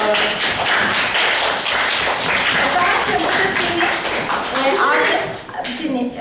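A group claps in a steady burst of applause while voices carry on underneath.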